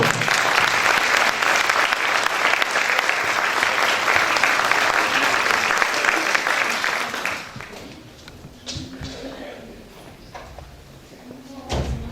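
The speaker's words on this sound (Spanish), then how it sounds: "Moitas gracias, forte aplauso." An audience applauds after a choir is introduced at a 2020 singing event. The clapping is full and loud for about seven seconds, then drops to scattered claps with faint voices and shuffling, and a few claps return at the end.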